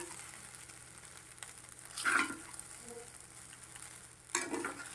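Sabudana masala khichdi cooks in a pan over a medium gas flame, a soft steady sizzle with two louder stirring scrapes, fairly quiet and close, with no voices.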